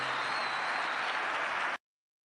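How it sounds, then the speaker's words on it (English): Applause after a speech during a presidential visit to Saudi Arabia, a dense sustained round of clapping from a large audience that stops abruptly after under two seconds. "And bin Salman gives that a rousing round of applause."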